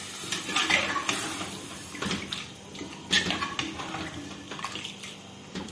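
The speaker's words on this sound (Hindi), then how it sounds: "अब इसके अंदर तकरीबन 2 गिलास लेवल पानी के डाल दें" About two glasses of water are poured into a cooking pot of boiled lentils and chicken, a close splashing gush with a few metallic clinks of the pot.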